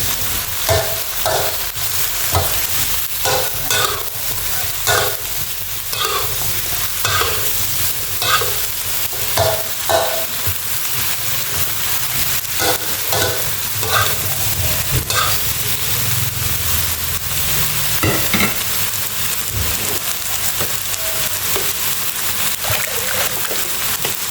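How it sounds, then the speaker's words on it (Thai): Luffa gourd being stir-fried in a hot pan, with steady sizzling and repeated scraping stirs of the spatula at a brisk, uneven rhythm, close and loud throughout. "ทำจะผัดบวบก่อนนะคะ ให้บวบสุกก่อน"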